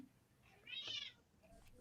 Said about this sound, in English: You got a cat? Oh, I got a cat.